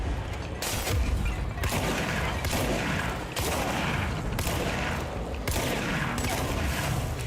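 Sniper gunfire in a video game rings out as a series of loud, sharp cracks about every second, each trailing into echo, with a steady dense background of battle noise.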